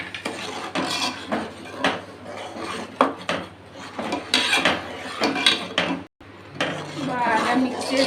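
Sugar being stirred into a drink in a vessel, with a spoon scraping and clinking against the sides in an irregular, continuous rhythm close by, under light talk and with one brief pause.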